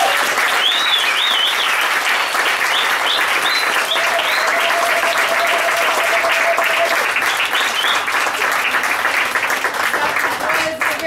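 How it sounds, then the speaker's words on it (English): Steady, dense applause from an audience after a talk by Sabry Wazwaz on life in Palestine, filling the room evenly with a few faint voices and tones mixed into the clapping. "Let's have a round of applause for"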